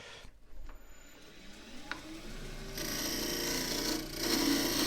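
A woodturning tool trues up the lid of an endgrain wooden box made from scrap wood, with a soft scraping rasp against the spinning lid that grows steadier and louder toward the end.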